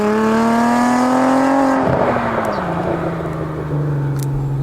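A VW VR6 engine in a car revs loudly, its pitch climbing steadily, then it drops back and settles to a lower, droning run near the listener.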